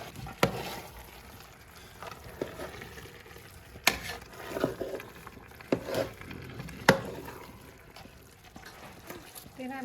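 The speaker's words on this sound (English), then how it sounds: "you can add butter if you want, or margarine will do just fine. Just give it a stir." Stirring margarine into partly cooked breyani rice in a pot, a soft scraping and patter of a spoon through the rice with a few sharper knocks against the pot, close up, with some quiet voices in the background.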